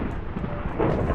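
Thunder from a lightning storm in the GregTech: New Horizons Minecraft modpack, a dense, continuous low rolling rumble that swells slightly toward the end, fairly loud and heard without speech.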